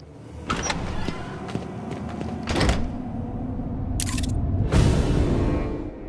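A heavy door in the Batman: Arkham City video game grinds open with a motorized sliding rumble, separate clunks and a final thunk, over steady game ambience.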